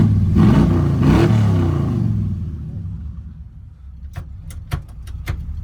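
An Oldsmobile Cutlass Supreme fitted with side pipe exhaust revs loudly and nearby in two deep surges, then settles into a lower rumble punctuated by a few sharp clicks or knocks.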